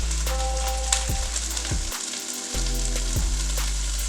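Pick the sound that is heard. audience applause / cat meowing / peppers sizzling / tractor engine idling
peppers sizzling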